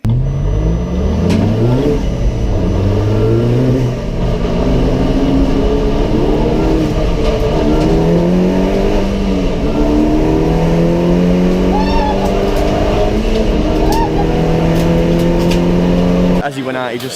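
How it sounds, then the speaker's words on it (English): Onboard a race car on cold slick tyres, the engine revs loudly up and down as the throttle is applied, with a voice talking over it throughout. "he just bit the throttle on cold tyres on slicks, and he just spun out"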